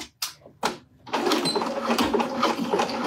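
A home sewing machine that needs oiling runs steadily and fairly loudly, a dense, rattling mechanical whir after a few short, separate clacks as the machine starts up.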